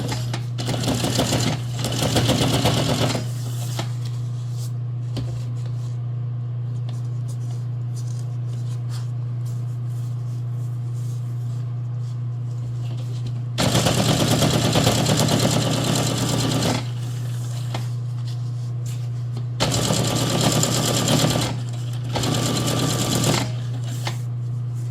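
A sewing machine runs straight stitches along a foam junk journal cover, loud rapid bursts of stitching separated by quieter pauses, with a steady hum underneath throughout.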